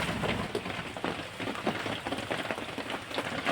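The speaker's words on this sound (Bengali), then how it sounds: "এদিকে তো আবার টিপটাপ বৃষ্টি শুরু হয়ে গেছে।" Light drizzle falling outdoors beside a lit clay stove, a soft steady patter of drops on surfaces, faint and close, with no voices.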